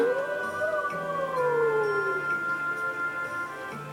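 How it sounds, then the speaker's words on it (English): A long, wavering wolf-like howl from Tenebrae in Tales of Symphonia: Dawn of the New World rises and slowly falls over a steady humming drone, followed by lingering tonal background. "He'll hear Tenebrae's howl again"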